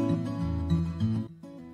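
Music playing steadily, then cutting out abruptly for a brief moment with no fade before resuming.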